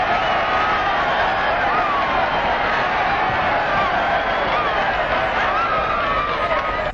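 A large crowd at a ball game roars and cheers continuously in a dense, muffled, old-film recording, a steady wash of voices with no pauses.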